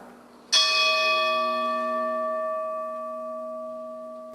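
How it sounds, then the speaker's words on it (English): A church bell at Holy Family in Lewiston tolls once for a memorial, a single loud strike that leaves a long, slowly fading ring of overtones with no voices over it. "Church bells ringing Sunday afternoon in Lewiston, one to represent each life lost."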